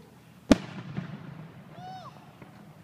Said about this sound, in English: we're out watching the fireworks in Fort Saskatchewan